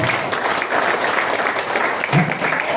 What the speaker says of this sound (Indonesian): tepuk tangan untuk TBS